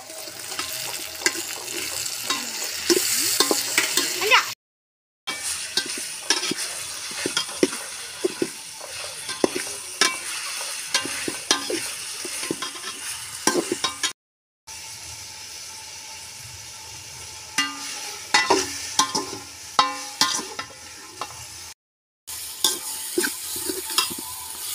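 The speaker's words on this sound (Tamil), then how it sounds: "வெங்காயத்தையும் கொத்தமல்லி தழை புதினா தழையும் நல்லா பொன்னிறமாக வறுத்து எடுத்துக்கலாம்" Onions, coriander leaves and mint frying for chicken biryani, a continuous sizzle broken by frequent scraping stirs and clinks, moderately loud and close, with a few brief silent gaps.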